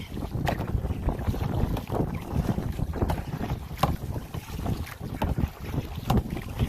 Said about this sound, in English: That's where the wind's coming from.